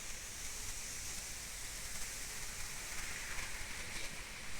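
Steady rain pours down in a continuous, even hiss with no breaks or voices, heavy and close throughout.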